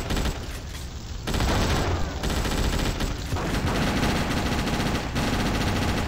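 Rapid, sustained automatic gunfire from a weapon in GTA Chinatown Wars rattles loud and dense throughout, with short dips and a voice briefly over the shooting.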